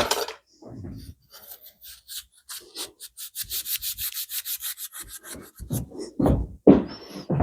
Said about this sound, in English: Let me run some Scotch-Brite over it.